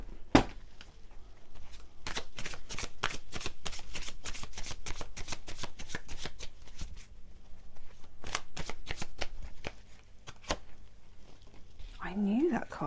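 Tarot cards are shuffled by hand in a steady riffling patter of crisp flicks and slaps, with a voice talking quietly alongside.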